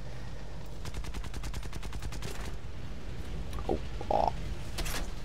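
Rapid gunfire strikes a tank in the War Thunder video game: a dense run of sharp, evenly spaced shots for about two seconds, then scattered metallic impacts and clanks over a steady engine rumble, with no talking.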